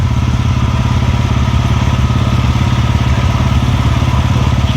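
A rented Royal Enfield Bullet motorcycle idles steadily close by, its single-cylinder engine giving a loud, even thumping chug with no speech over it.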